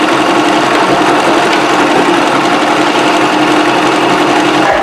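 A sewing machine runs continuously, stitching hair wefts onto a lace closure wig, a steady loud mechanical whir holding an even pace with no pauses throughout.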